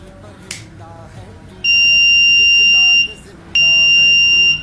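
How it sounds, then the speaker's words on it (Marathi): A buzzer on a homemade IR-sensor anti-sleep goggle sounds two long, steady, shrill beeps, each over a second, with a short gap between them, loud and close over faint background voices. "डोळे बंद झाल्यावरतीच हा बझर वाजतो."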